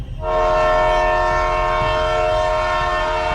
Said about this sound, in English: Then, unmistakably, a train horn.